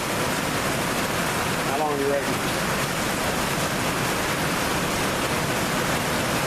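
Steady rain falls outdoors in a wet-weather fire-starting test, making a constant dense hiss that fills the whole stretch, with someone speaking briefly early on beneath it.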